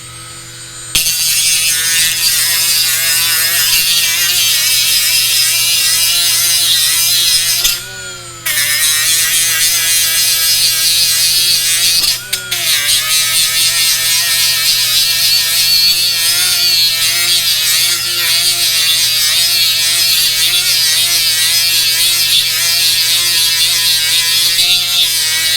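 A cordless Milwaukee M12 die grinder runs at 10,000 RPM with a loud, steady high-pitched whine that holds for nearly the whole stretch. The tone dips briefly twice when the tool is let off, and no one speaks.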